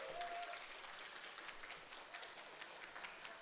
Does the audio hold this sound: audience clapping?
yes